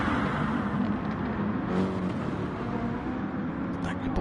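Gr3 race cars at Fuji International Raceway in a racing video game, a continuous engine roar and whir running throughout, heard under steady race commentary.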